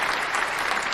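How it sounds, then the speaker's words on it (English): A crowd applauds with dense, continuous clapping throughout a brief burst of cheering. "The crowd goes wild."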